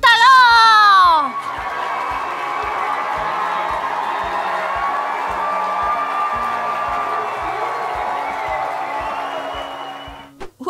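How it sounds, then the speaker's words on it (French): Audience at a children's church service clapping and cheering loudly for young actors after a play, a steady crowd din with whoops and shouts that runs for about ten seconds before fading. "merci d'applaudir bien fort tous nos acteurs de talent"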